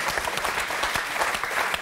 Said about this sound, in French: Un peu l'applaudir.